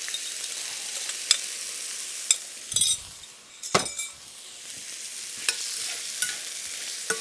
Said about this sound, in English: And the pan looks like it's hot. And in goes the shrimp.